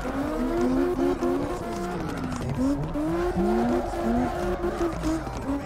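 Huge 2300HP trucks drift in CarX Drift Racing, their engines wailing and rising and falling in pitch as they slide, with tire squeal layered over a continuous, loud roar.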